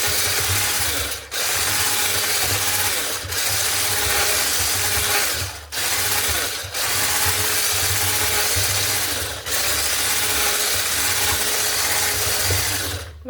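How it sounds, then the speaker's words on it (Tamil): Eggs beaten for cupcake batter make a loud, continuous whirring, rattling mechanical churn up close, briefly broken by a few short pauses. "இப்போ பார்த்தீங்கன்னு சொன்னால் முட்டையை போட்டு நல்லா அடித்தாச்சு."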